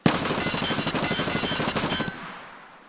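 Automatic weapon firing a sustained burst of rapid, evenly spaced shots in the video game Escape From Tarkov, close and loud for about two seconds, then a fading tail as the burst stops.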